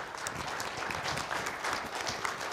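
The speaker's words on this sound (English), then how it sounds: "So I think Diane deserves a round of applause." Steady audience applause at a Presbyterian church celebration service in Sligo, a dense even patter of many hands clapping throughout, moderately close with no talk over it.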